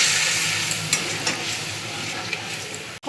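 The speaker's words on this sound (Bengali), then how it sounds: "এখন ভালো করে মশলাগুলো সাঁতলাবো।" Spices, salt, turmeric and ginger sizzle in hot oil while being stirred for a green-banana kofta curry, a steady close crackling fry with occasional scraping stir strokes and a sharp clatter near the end.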